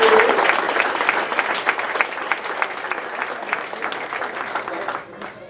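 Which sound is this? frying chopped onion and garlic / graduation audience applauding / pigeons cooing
graduation audience applauding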